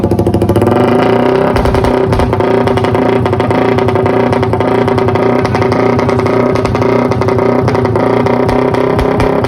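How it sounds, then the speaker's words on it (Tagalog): Motorcycle engine revving hard through an open KOU exhaust pipe fitted with a rapid-backfire setup, loud and close with continuous throttle blips and a dense rattling exhaust note throughout. "pinatunog na natin ng engine ng motor"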